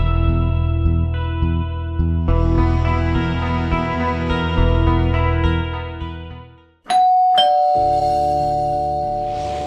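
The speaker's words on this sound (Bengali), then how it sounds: "আরে এত রাতে কলিং বেল কে দিল?" A doorbell rings late at night in a home, a long chiming melody of sustained tones that fades out, then after a short gap a second, brighter ding-dong sounds and rings on, loud and close with no talking.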